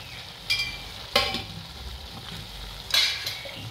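Turmeric being stirred into frying potato, cauliflower and fenugreek in a pan, with a soft sizzle underneath and a few sharp spoon scrapes against the metal, about three distinct strokes.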